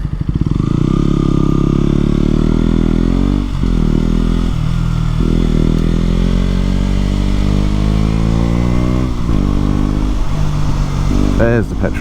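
A motorbike rides along a dual carriageway, its engine droning loud and close throughout, with the pitch rising and dropping through several gear changes and a brief rev near the end.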